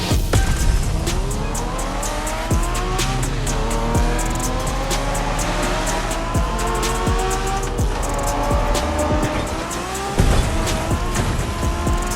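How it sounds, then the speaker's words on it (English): A race car street racing in The Crew Motorfest video game, its engine revving up and down through gear shifts with tire squeals and skids, loud and continuous throughout. "We're going for some proper Japanese street racing."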